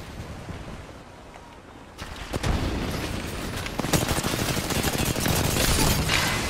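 Gunfire in the shooter game Apex Legends, rapid bursts and cracks starting about two seconds in and continuing densely to the end, fairly close, with no talk.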